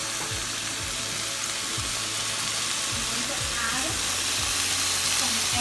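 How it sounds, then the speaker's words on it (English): Shrimp cook in a pot of creamy seafood mix, a loud, continuous sizzle and bubbling hiss held steady close up, with a faint low rumble underneath and no clear speech. "Now I'm going to add my shrimp to the pot, because remember the shrimp cooks fast"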